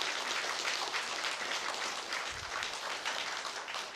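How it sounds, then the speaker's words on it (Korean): An audience at a Saturday temple Dharma service claps in a dense, steady wash of applause that holds evenly from start to finish, with no voices. "억지로 박수 받습니다"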